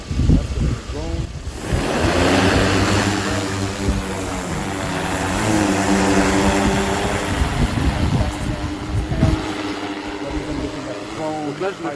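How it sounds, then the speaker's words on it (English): A small camera drone's propellers whine and buzz over an ice shelf, the sustained tonal hum shifting in pitch as it flies, with voices talking at the start. "That's the drone."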